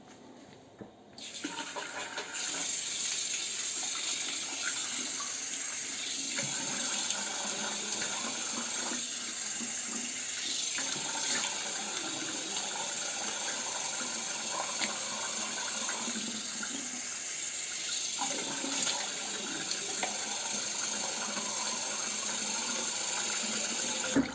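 Tap water running steadily into a sink while rinsing after a shave, a continuous close hiss and splash that starts after a brief quiet moment and holds, with small changes in flow, for the full length.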